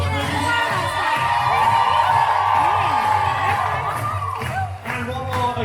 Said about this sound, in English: give a big round of applause for my crew stars